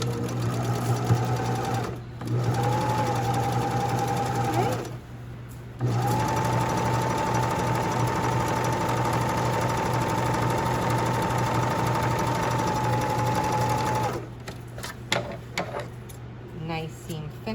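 A sewing machine runs in long steady stretches stitching a zigzag seam on doll pants, its close, even mechanical whir broken by a few short pauses, with a person talking faintly in between.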